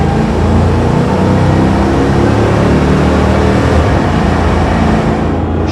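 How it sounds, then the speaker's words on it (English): A supercharged 5.4-liter 2000 Ford SVT Lightning pickup accelerates hard, its engine and road noise forming a loud, steady, dense roar that holds throughout without a break. "We'll get in the throttle one more time here, a little bit heavier."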